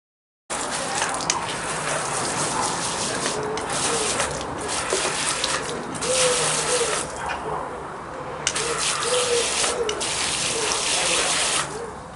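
Water pouring steadily from a can or hose around the base of a potted summer-fruiting raspberry on a patio, a continuous close splashing gush lasting several seconds with slight changes in intensity.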